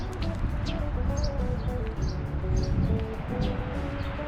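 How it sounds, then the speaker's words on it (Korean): Sparrows chirp in short, scattered high tweets around a countryside house in rural Okcheon, set over a steady low rumble of nearby road traffic. "확실히 시골이라서 참새 소리가 함께합니다"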